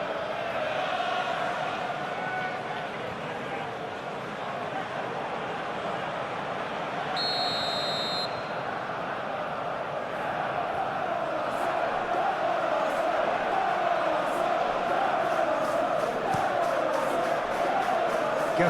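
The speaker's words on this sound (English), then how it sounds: "Maybe the crowd will stay a little quieter next time." Football stadium crowd at an Arsenal vs Chelsea cup semi-final, a steady, broad roar of many voices that rises and falls slightly, with a brief whistle and some distant claps, continuous throughout without any close voice.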